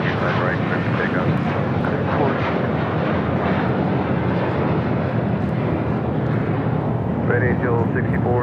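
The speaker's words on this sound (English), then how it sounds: "This is American Airlines 990 taking off to Atlanta on an A321." An American Airlines A321 takes off from LAX bound for Atlanta, a steady broadband jet roar filling the whole stretch at constant loudness, with faint voices around it.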